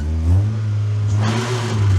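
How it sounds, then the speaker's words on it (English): A car's faulty transmission grinds while the car rolls in second gear. It gives a loud, low, continuous drone with a rising and falling whine close by, and nobody talks over it. "Yeah, so that is the sound that the transmission makes."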